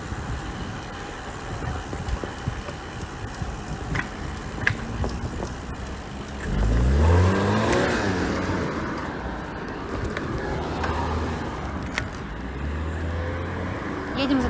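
Cars passing cyclists on a road near Pargolovo, a vehicle rumbling up and sweeping by loud and close, then fainter traffic hum continuing under steady road and wind noise.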